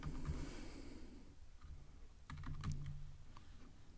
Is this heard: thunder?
no